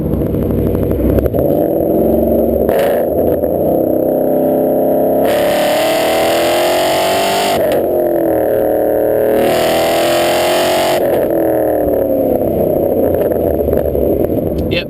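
Loud, close V8 engine of a 2013 Ford Mustang GT breathing through an off-road X-pipe exhaust, rising and falling through several hard revs and gear changes with a harsh, raspy roar and no talking.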